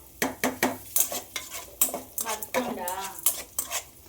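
Carrots and peas are stirred in a pan for breakfast shavige uppittu, with a rhythmic series of close metal spoon scrapes and taps against the pan and a faint sizzle beneath.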